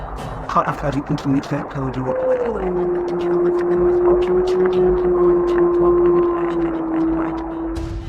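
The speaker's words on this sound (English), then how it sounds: "A lone wolf's howl pierces through their conversation" A lone wolf's long, steady howl rises and holds one pitch for several seconds just outside a tent in a forest, heard beneath faint voices and clicking sounds nearby.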